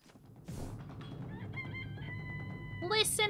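A rooster crows loudly once in a long harmonic call, preceded by scattered clucks and ending in a sharp, bright squawk, close to the listener with no talk over it.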